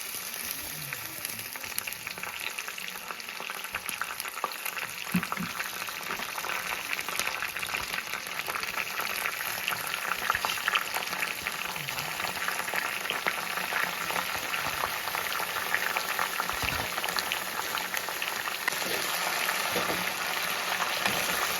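Gongura leaves sizzling and frying steadily in a pan for a coconut gongura chutney, a continuous broadband hiss with occasional faint stirring scrapes, close and fairly even throughout.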